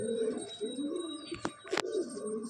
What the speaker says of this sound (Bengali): দারুণ পায়রাটা দেখুন